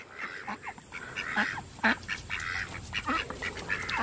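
A group of ducks quacks and honks repeatedly at close range, rather busy and steady, with a brief word spoken near the end.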